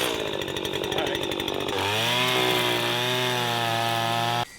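A petrol string trimmer revs hard and close with a buzzing two-stroke whine, then settles into a steady high-pitched drone that holds for several seconds before cutting off abruptly.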